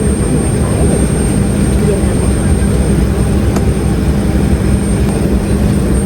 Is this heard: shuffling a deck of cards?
no